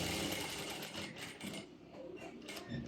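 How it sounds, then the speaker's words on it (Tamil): A sewing machine stitches palazzo pants, running in a steady, fast mechanical whir throughout with slight dips in pace, fairly close and alone without talk. "இந்த பீஸை வச்சு இந்த இடம் வரைக்கும் நம்ம ஸ்டிச் பண்ணிக்கலாம்"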